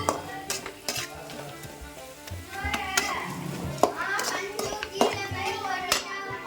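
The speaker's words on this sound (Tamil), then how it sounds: "அரைச்சி வச்ச தேங்காய் ஆட் பண்ணிடலாம். நல்லா இது மாதிரி ஃப்ரை பண்ணிக்கலாம்." Ground coconut paste frying in a pan for coconut rice, with a steady sizzle and repeated spoon scrapes and stirring clinks against the pan, close and fairly loud, no talk.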